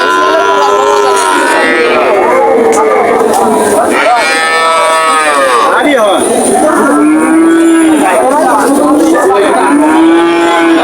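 Many cattle moo loudly and repeatedly at a busy cattle market in Shurighata, with long overlapping calls from several nearby animals over a constant murmur of crowd noise.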